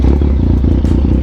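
A 2020 Yamaha Tracer 900 GT motorcycle engine runs steadily and loudly up close, with a low throbbing rumble and some rattling clatter.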